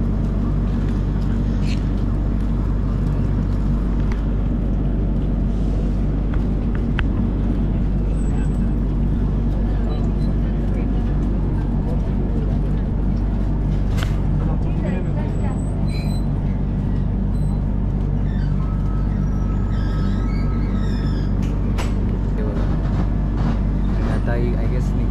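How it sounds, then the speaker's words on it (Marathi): Mandovi Express train running after departure, a steady low rumble and rattle from inside the coach, with occasional squeaks and clanks and people talking throughout. "ट्रेन निघाली आहे"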